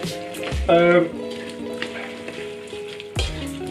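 Sausage and paprika frying at full heat hiss and crackle in a pan while being stirred, with a louder burst of sizzling and clatter near the start and again near the end, over a steady tonal background.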